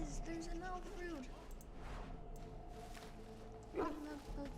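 A dog in the fantasy role-playing game Dragon Age: Origins yips and whimpers in short bursts over a low game soundtrack, with a louder yelp near the end.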